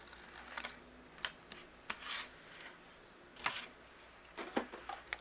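Scissors snip through card stock during card making, giving a few quiet, separate cuts and rustles spread over several seconds with no talking.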